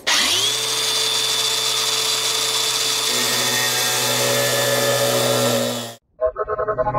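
A power tool whirs steadily at close range while cutting into a classic Mustang to make room for a radiator, holding a loud continuous high whine for about six seconds before stopping abruptly, followed by brief clattering.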